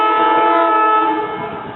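Married pair of SEPTA-style rail cars 332 and 333 passing near North Wales with a loud, sustained two-tone horn blast that holds steady and begins fading toward the end, with no voices.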